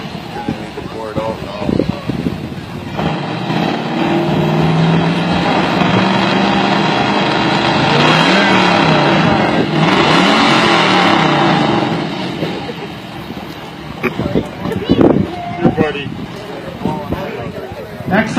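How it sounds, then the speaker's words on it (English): A Chevy Camaro at an outdoor exhaust contest gives a sustained, loud rev, with the engine roar rising and holding for several seconds before dropping away, amid wind noise and nearby talk. "Next up, Chevy Camaro."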